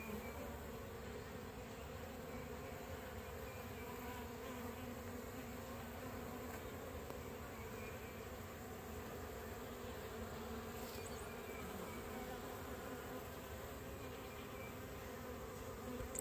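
Honey bees in an open hive during an oxalic acid dribble mite treatment, a constant dense buzzing hum, close and steady, with no talking.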